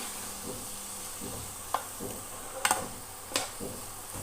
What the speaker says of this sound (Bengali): দিয়ে দিই একটু ভালোভাবে নাড়াচাড়া করে